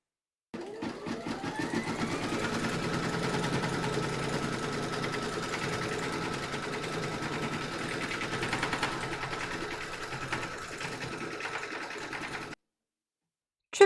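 An embroidery machine stitches a round on a hooped Halloween kitty design, a steady fast mechanical whir and needle chatter running continuously for about twelve seconds before stopping, close and even.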